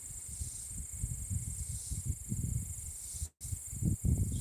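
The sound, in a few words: cicadas buzzing loudly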